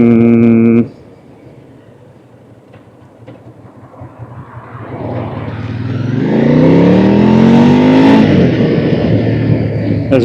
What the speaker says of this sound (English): it's going to be a bit trafficy because I'm on my commute home